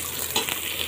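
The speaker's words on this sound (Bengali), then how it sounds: "পেঁয়াজটাকে গোল্ডেন ব্রাউন কালার করে ভেজে নেব" Onions fry in hot oil inside a rice cooker, giving a steady close sizzle with a brief stir near the middle of a very short moment.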